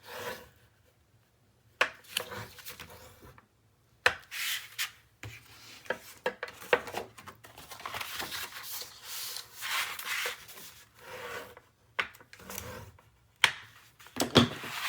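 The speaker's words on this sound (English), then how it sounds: "Give it a good burnish." Paper in a 9 x 9 Graphic 45 Curiouser & Curiouser mini album rubbed down with a firm burnishing tool, giving repeated dry rasping strokes in bursts separated by short pauses and faint handling noises.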